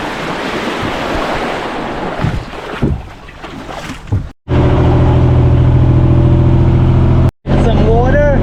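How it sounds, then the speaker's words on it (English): Tour boat engine running as the boat travels between stops on a private island-hopping tour off El Nido, a loud steady drone with water and wind rush, preceded by a few seconds of mixed splashing and background noise. "Back on the boat to the next destination."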